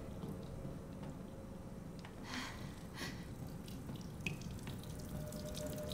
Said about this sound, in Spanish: Ah, el grifo está corriendo.